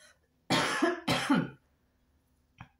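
Two harsh, close coughs in quick succession from one person, followed by a faint short throat sound after a pause.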